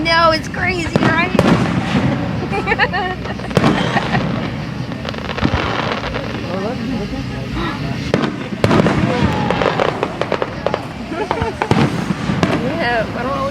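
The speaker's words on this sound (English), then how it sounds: "See the fireworks?" Fireworks burst repeatedly at a display, a dense run of cracks and booms with crackling tails, loud and continuous, while people talk throughout.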